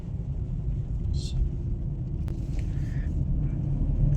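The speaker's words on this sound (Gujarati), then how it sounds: "હવે અત્યારે હાલ અમારે 4 વ્હીલ લઈને ઉપર જઈએ છીએ" A four-wheeler climbs the hill road to Kadamgiri near Palitana in monsoon weather, its engine a steady low rumble close by throughout with faint incidental sounds above it.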